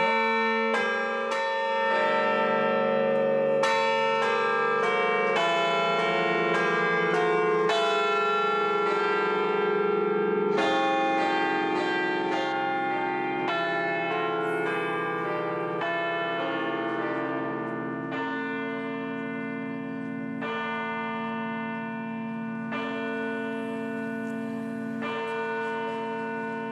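Church bells peal continuously from a Paris cathedral, a loud, sustained ringing of several bells with overlapping strikes and long resonant tones, no voices present.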